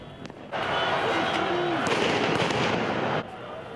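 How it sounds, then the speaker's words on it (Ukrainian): A dense burst of firecrackers crackling rapidly for a few seconds amid a noisy street crowd of football fans during the Euro 2016 final, then cutting off. "Фанати висаджували петарди, кидали фаєри"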